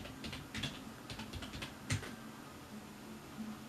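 Computer keyboard typing in a quiet room, a scatter of soft key clicks in short bursts with one sharper tap near the middle, close and faint over a low background hum.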